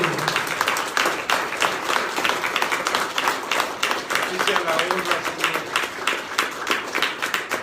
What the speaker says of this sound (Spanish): Un fuerte aplauso, glorifíquelo